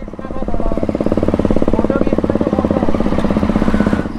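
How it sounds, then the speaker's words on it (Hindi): A KTM RC motorcycle with a loud exhaust idles close by, its engine pulsing in a rapid, even rhythm at steady volume. "मैं तब से सोच रहा हूँ कि एग्जॉस्ट को क्या हो गया, फिर बाद में पता चला KTM RC"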